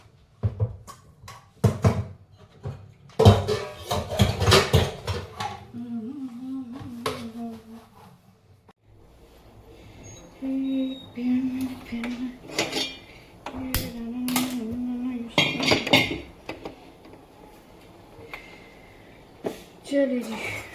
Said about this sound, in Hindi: बर्तन धो लेते।